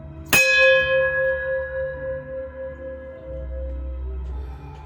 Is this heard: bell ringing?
yes